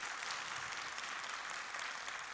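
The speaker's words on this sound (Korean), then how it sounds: "박수 한번 부탁드리겠고요." A church congregation gathered for a men's mission society New Year prayer service claps for the mission officers, a brief, even burst of applause heard from a moderate distance.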